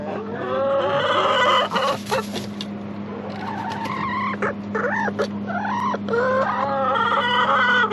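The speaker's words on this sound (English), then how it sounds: "there's definitely activity over here, and there's a chicken" Chickens cluck and call repeatedly inside a greenhouse, some rising squawks among them, over a constant low background hum.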